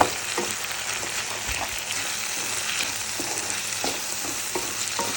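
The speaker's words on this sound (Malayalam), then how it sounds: "അപ്പോൾ നമുക്ക് ഇതിനൊന്ന് ഇളക്കി കൊടുക്കാം." Fish frying in an iron pan is stirred, giving a steady close sizzle with scraping and clinking stir strokes throughout, and no voices.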